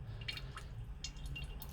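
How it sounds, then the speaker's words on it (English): Engine oil drips from the sump of a Honda Civic EP3 during an oil change, a handful of small separate drips and splats over a low steady background hum, with no talking. "I've got the sump dripping, and we've got the oil filter dripping"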